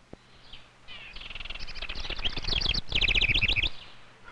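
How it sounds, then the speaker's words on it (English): A small brownish wren singing a fast, bubbling song of rapid trills and chirps that builds in loudness, heard alone and fairly close in a recording from 1960. "This small brownish bird is a wren."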